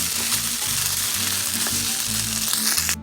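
Refried beans mixed into browned ground beef taco filling in a hot pan, a loud continuous sizzle with stirring scrapes throughout, while steady low background music plays underneath.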